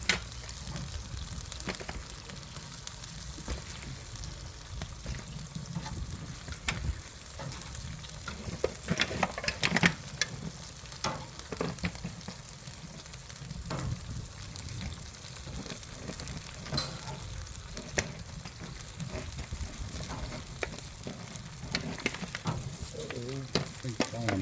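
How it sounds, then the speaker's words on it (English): Pork belly burnt ends sizzle and fry steadily as they are shifted into a pan by a Weber Smokey Mountain 18 smoker, with scattered scraping and clinking over a continuous crackle. "got these burnt ends coming off. Let me get these in this pan here"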